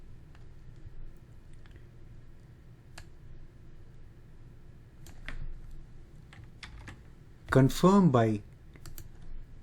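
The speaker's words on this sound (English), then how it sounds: "keying in the name of your bucket" Scattered soft keystrokes tap on a computer keyboard, sparse and close, then a brief burst of speech cuts in near the end.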